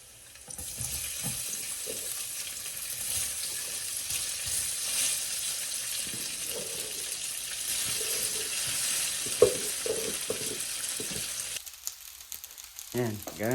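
Garlic fries in a pan with a steady, close sizzle that runs throughout, broken by scraping and stirring knocks, and ends with a few clatters as the noise stops.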